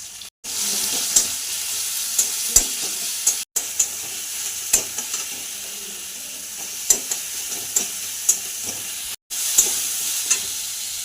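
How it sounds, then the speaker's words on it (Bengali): Cumin, dried red chilli, bay leaf, chopped tomato and a little ginger paste sizzle in hot oil as a tempering for moong dal with ridge gourd; a steady close hiss runs throughout, broken by sharp spoon-stirring clicks and taps, with no talking. "ফোড়নে দিব জিরা, শুকনো লঙ্কা, তেজপাতা, টমেটো কুচি, একটু আদা বাটা"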